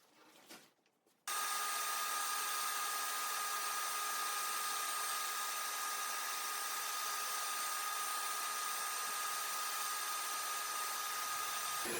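A bandsaw cuts a curved wooden shelf support in a double-swoop shape. After a brief knock, a loud, steady machine whine with a strong tonal hum runs without a break, then drops away at the very end.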